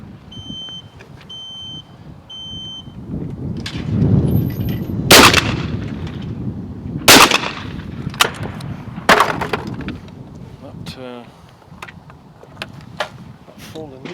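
Webley & Scott XSP air rifle firing several sharp shots outdoors, each a crisp crack spaced a couple of seconds apart, with someone talking quietly in between.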